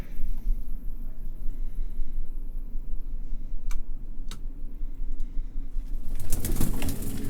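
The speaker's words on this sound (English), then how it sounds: "That sounds like a bird or something trapped down here." A bird trapped in a space below gives soft pigeon-like coos under a steady hiss of background noise, with a couple of sharp ticks and a burst of flapping or scuffling near the end.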